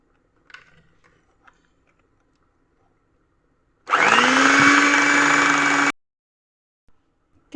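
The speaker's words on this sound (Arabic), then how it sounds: "نعاودو كاع نخلطوها بالباتر باش نساجمو لنا هاد المقادير جميعا" An electric hand mixer whirs loudly for about two seconds as it blends biscuit dough ingredients with honey, starting abruptly and stopping cleanly, with a few faint knocks and handling sounds before and after.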